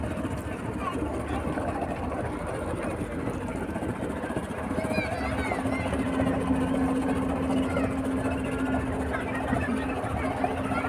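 A boat engine on a lake at Meghla in Bandarban runs with a low, steady droning hum that grows clearer midway, beneath ongoing talking and general outdoor noise.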